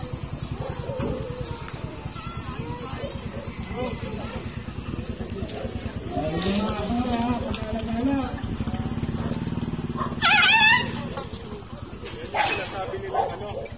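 A stray dog barks and yips at intervals in a village street, mid-distance, under steady talk from several people, with a motorcycle engine running nearby.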